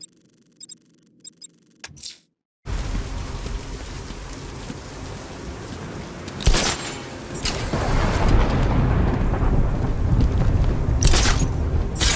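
Heavy rain pours down in Batman Arkham Knight, preceded by a few brief clicks and a moment of silence, then a steady downpour swelling louder with two deep thunder booms rolling through it.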